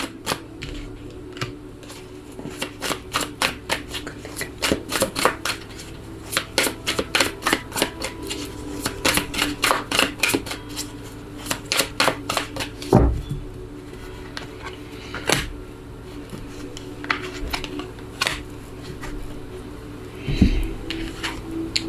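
Tarot cards are handled and laid out on a surface, giving a run of crisp taps, flicks and shuffling clicks in uneven bursts, close and fairly quiet, with no talk.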